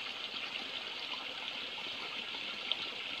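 Water runs steadily from an overflow hose pipe in the forest, a constant soft trickle and rush that sounds close and unbroken, with no one talking.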